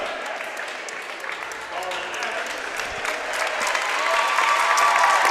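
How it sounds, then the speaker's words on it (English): Applause from a basketball crowd at a championship game, a standing ovation swelling steadily louder across the clip with dense clapping and a voice talking over it. "She gets a standing O from the Superior crowd"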